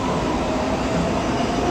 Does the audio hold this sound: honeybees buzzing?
no